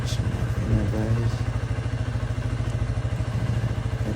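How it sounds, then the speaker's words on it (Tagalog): Suzuki V-Strom 160 motorcycle engine starting and settling into a steady close idle, a rapid even single-cylinder putter with a brief mechanical clatter at the start. "Bumukas yung makina"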